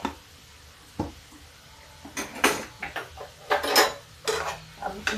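A pot of ridge gourd curry being covered with a lid, with a few metallic clanks and scrapes of cookware and utensils, several close sharp knocks spread unevenly across a quiet kitchen background.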